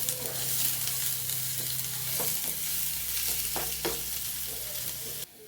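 Chopped onions frying in hot oil for a Kerala coconut-ground mackerel curry, a steady close sizzle with intermittent scraping stirs of the spoon in the pan, no talking.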